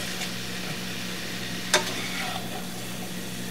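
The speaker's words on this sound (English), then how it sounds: "Okay, now we're going to stir this up." Garlic sizzling in a frying pan as it is stirred while cooking burrito filling, a steady close frying hiss throughout with one sharp scrape or clink of the utensil partway through, no talking.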